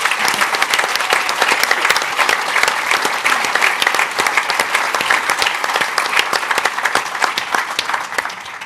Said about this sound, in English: I got to give that a round of applause right there